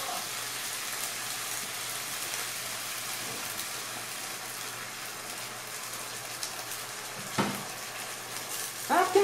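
Soy sauce sizzling and frying in a hot pan while a mince-and-broccoli pasta dish cooks, a steady broadband hiss from start to finish with a brief stirring clatter near the end.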